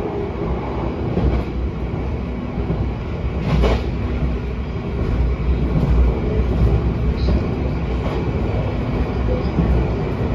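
The KA Harina passenger train runs steadily after Pemalang station, a continuous rumble of wheels and carriage noise heard from inside, with a brief louder rattle partway through and no talk.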